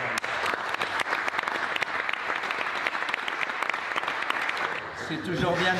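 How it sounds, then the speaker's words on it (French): Applause from a studio group for newly crowned European football champions, brisk distinct claps with some speech in the mix, ending with a voice talking at the close. "On peut les applaudir."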